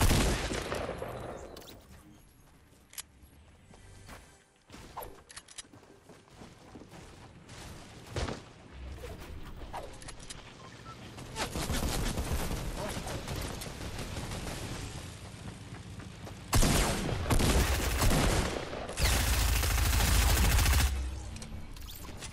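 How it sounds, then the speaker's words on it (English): Bursts of rapid gunfire in Fortnite, fired by Santa, come in scattered volleys with heavier, denser shooting toward the end, mixed with other game effects and little talk. "Santa just freaking shot at me"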